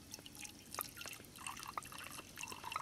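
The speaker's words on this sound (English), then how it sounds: "all we have to do is put some water in it" Stream water is poured into a pot at a hammock wild camp, making quiet trickling and dripping with small splashy plinks, close and faint, with no voices.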